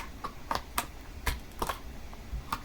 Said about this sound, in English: I'm not sure if my corner rounder will work on the plastic, but I can always give it a try